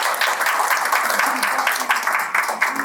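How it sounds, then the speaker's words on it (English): Audience applause for an actress at a film press conference, dense continuous clapping from a room full of people with chatter mixed in. "a big round of applause for Shrishti"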